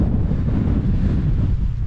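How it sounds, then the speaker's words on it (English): Strong gusty wind on an exposed hilltop at Windy Gyle, Northumberland, buffets loudly and continuously with low rumbling roar, close and without talk. "It's quite gusty."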